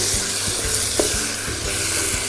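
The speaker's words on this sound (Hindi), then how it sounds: "थोड़ा सा हम इसको चला देंगे" Spicy tawa chicken with kasuri methi and coriander gets stirred in a hot pan, a steady close sizzle and frying hiss with soft rhythmic scrapes of the spoon, no voices.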